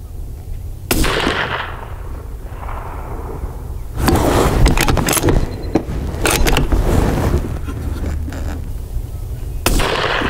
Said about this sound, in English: Okay, I'm going to shoot the center target. Here we go. 3-shot group, Sierra